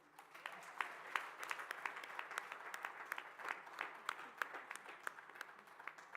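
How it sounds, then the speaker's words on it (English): A conference audience of women birders applauds a speaker with steady, even clapping across the room throughout, moderately distant and unbroken by talk. "Please give another round of applause."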